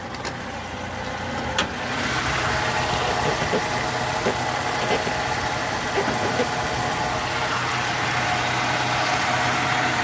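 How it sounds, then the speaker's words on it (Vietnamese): A 2004 Toyota Zace GL engine idles with the hood open, a steady close mechanical hum with a faint rhythmic tick running underneath, preceded by a couple of sharp clicks at the start. "Máy đang hoạt động nha, máy nổ rồi."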